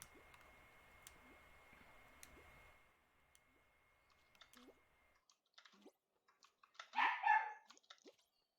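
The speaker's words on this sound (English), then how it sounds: "The dogs are excited about it too." Dog barks come in a short loud burst near the end, preceded by faint clicks, drips and scattered small noises over a quiet background.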